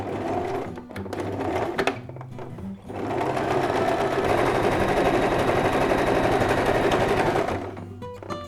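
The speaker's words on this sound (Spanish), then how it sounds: "Con todos los alfileres puestos, vamos a la máquina de coser." A sewing machine stitches a reversible, roll-up placemat, running in a steady loud whir with short stop-start bursts at the beginning, then a long continuous run before stopping near the end.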